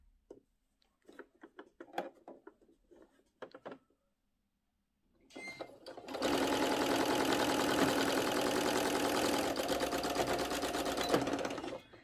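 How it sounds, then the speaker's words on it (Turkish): Sewing machine stitching a fabric pouch: scattered handling clicks and taps at first, then a brief pause, then a continuous loud mechanical whir of stitching lasting several seconds. "Bir makine ayağı, oradan dikiyorum."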